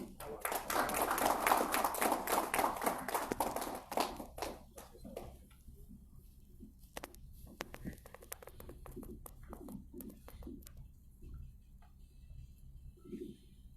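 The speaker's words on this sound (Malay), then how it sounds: "kita beri satu lagi tepukan gemuruh kepada Tuan Presiden kita atas ucapan tadi" A hall audience at a Malaysian cleaning contractors' association event applauds after the president's speech, dense clapping for about four seconds and then thinning to scattered claps and room noise.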